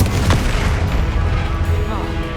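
A Confringo spell blast in Hogwarts Legacy, a loud, deep, rumbling boom that fills the short moment with a sustained low roar and a sharp crack early on.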